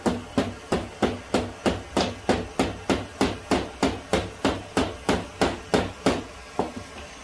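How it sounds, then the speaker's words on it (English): A small hammer peens hot metal pipe again and again in a steady, even rhythm, about three blows per second, each ringing sharply up close. "Take the little hammer."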